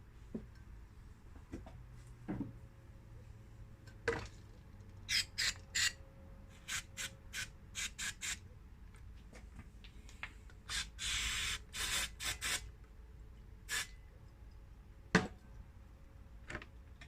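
Short bursts of cleaner spray hiss into the idle motor holes of a throttle body, a series of brief close sprays with quiet pauses between them.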